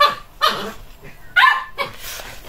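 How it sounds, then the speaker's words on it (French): A female dog barks in short, sharp bursts while playing indoors, with three or four loud yips spaced irregularly, close to the listener and with no one talking. "pour la chienne, mais bon, elle joue"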